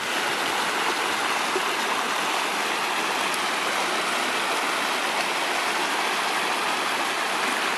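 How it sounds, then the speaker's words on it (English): Water rushes through the broken left side of a beaver dam on the Purgatoire River: a loud, steady, close roar of churning flow, continuous and unbroken throughout, with no talking. "The left-hand side of our beaver dam"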